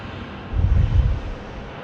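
A Qantas airliner in retro livery at Sydney Airport rumbles past in a low, broad roar that swells midway and eases off, heard outdoors with some wind.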